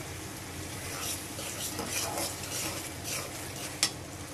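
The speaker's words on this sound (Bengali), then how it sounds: "আমি মশলাটা কষাই নিছি।" Spice paste for a silver carp curry with papaya, potato and tomato being stirred and fried in a pan, a constant close sizzle with scraping stirring strokes and a brief utensil clink near the end.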